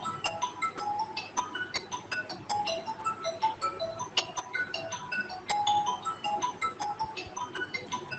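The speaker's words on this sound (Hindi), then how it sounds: "एक मिनट रुको, एक फोन आ रहा है।" A phone rings in a room with a repeating electronic ringtone melody, bright and steady for several seconds, with no one speaking over it.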